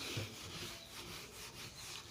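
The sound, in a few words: rubbing to erase writing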